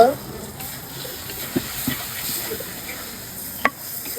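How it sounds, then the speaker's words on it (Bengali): Banana stem curry being stirred in a pan gives a low, steady sizzle and hiss with a few sharp scraping knocks of the spoon, close and moderately loud. "এখন আমি একটু নাড়াচাড়া করে দিব"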